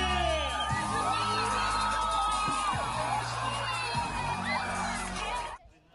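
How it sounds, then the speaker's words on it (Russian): Spectators at an outdoor sports event in Astrakhan, a lively mix of whoops, shouts and cheers with a few bangs, dense and continuous before cutting off at the end. "Болельщики как могли поддерживали своих спортсменов"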